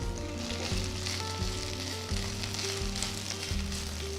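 Fresh mint, chopped coriander and fenugreek leaves fry in a spoon of sesame oil in a pan for green masala paste, giving a steady close sizzle with occasional stirring bumps and no voices.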